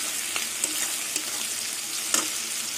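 Onion, shrimp and green chili fry together in a pan with a dense, steady sizzle, broken by a few light clicks of a spoon stirring, close and even throughout with no voices.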